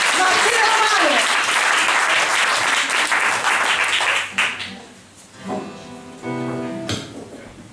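Audience at a singing show bursts into loud, dense applause for about four seconds, then the clapping fades into scattered claps as a voice speaks.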